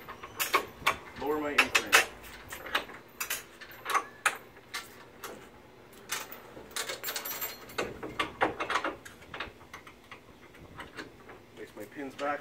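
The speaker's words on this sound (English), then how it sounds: "Now I'm just going to raise this onto the dolly wheels." A 5x8 folding utility trailer being raised onto its dolly wheels gives a run of close metallic clicks, ticks and clanks in an irregular rhythm, with brief speech-like sounds among them.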